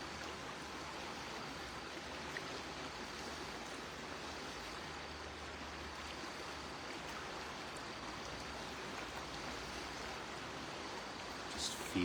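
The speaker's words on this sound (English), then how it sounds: "as the river flows." A river flows with a steady, unbroken rush of water that stays even and fairly soft throughout, with no distinct splashes or pauses.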